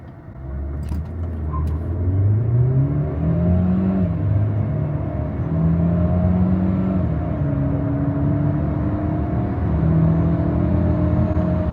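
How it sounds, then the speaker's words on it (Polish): Bestune B70 SUV with a Volkswagen 1.5 TSI turbo petrol engine accelerating hard from 0 to 100 km/h, heard from inside as a steady, loud engine drone that climbs in pitch, drops briefly at each gear change and climbs again. "Tak samochód przyspiesza od zera do setki."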